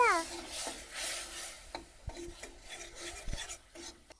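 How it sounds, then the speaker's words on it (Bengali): Spice masala with red chilli powder, salt, turmeric and a splash of water frying in a pan, heard as rough rasping scrapes of a spatula against the pan's surface with a faint sizzle, quiet and close. "মশলাটা ভালো করে ভাজা হয়ে গেছে"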